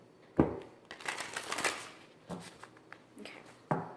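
Tarot cards being shuffled in several quick riffling bursts, crisp papery flutters with short pauses between them, close up.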